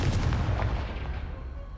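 A Confringo fire spell blast in the video game Hogwarts Legacy, a loud booming explosion that rumbles and then fades out over under two seconds, with no voice heard.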